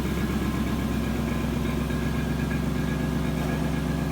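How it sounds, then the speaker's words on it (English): A 1997 Lexus LS400 engine idles steadily with a slight exhaust leak, a close, even drone carrying a faint rhythmic light knock from the exhaust throughout. "There's a light knock noise that's coming from the exhaust, if you hear that"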